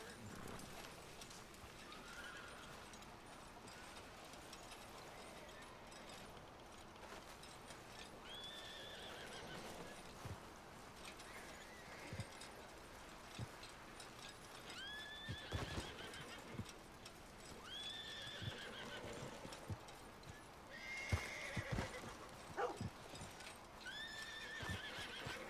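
Horse whinnies repeat several times in a video game, rising and falling neighs over a steady bed of clip-clopping hooves and ambient game noise, with faint talk underneath.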